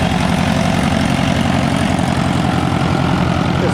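An RV-6 light aircraft engine runs near a taxiway at an Oshkosh AirVenture airshow, a loud, continuous droning rumble with no break and no voices.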